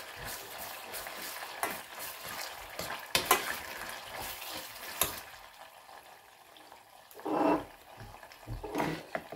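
Tomato paste sizzling and frying in a pan for homemade beyti, crackling bursts with spoon stirring and scraping, some louder sputters toward the end, no talking.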